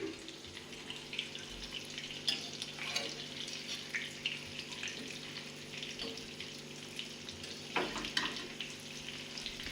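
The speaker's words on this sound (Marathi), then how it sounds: "छान असे सगळे मासे मी रवा लावून तेलात टाकून घेतलेत आहे" Semolina-coated fish pieces fry in a little oil, giving a steady, fairly quiet crackling sizzle throughout with a few brief clatters as pieces are turned.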